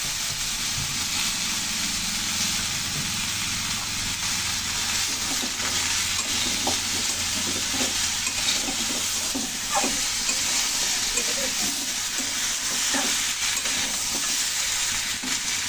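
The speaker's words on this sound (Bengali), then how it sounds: "লাউগুলো ভালো করে এখন কষিয়ে নিচ্ছি" Bottle gourd and potatoes sautéed in a pan for a koi fish curry, with a steady sizzle and hiss throughout and soft intermittent scraping and stirring, close and even in level.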